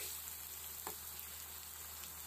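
Tomatoes sizzle after going into a hot frying pan while cooking warak enab, an Arabic stuffed grape leaf dish: a soft, steady frying hiss, fairly faint and close, with one brief clink around the middle.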